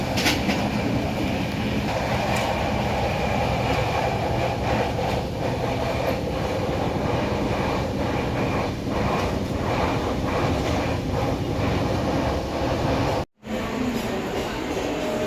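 Steady loud rumble of a moving Konkan Kanya Express train from inside a carriage, wheels clattering continuously, with a brief dropout near the end.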